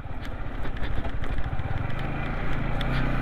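A motorcycle rumbling over a rough, rocky mountain road in Spiti Valley, its engine a steady close low drone with bumpy rattling throughout, no talking.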